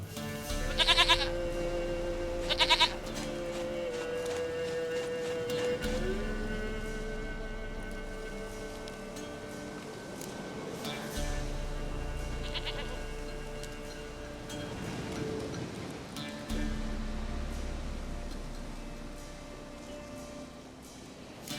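A goat bleats twice in The Witcher 3, in two short, loud cries near the start. After that, game music and ambient sound carry on, with faint rain-like noise underneath.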